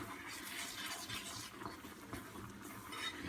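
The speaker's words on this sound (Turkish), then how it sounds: "İçerisine bir kutu krema ilave edeceğiz yavaş yavaş." Cream from a can is poured slowly into toasted flour in a pan, giving a steady soft hiss and trickle. The sound stays constant and faint for the whole stretch.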